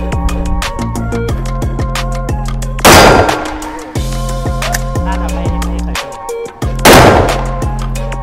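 Two loud, sharp shots from an MCX rifle at a shooting range, spaced about four seconds apart, burst over steady background music.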